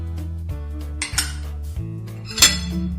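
A spoon mixes sugar, light soy sauce, soup powder and ground chilli in a mixing bowl, clinking and scraping against the sides in several distinct strokes, close and clear with no speech.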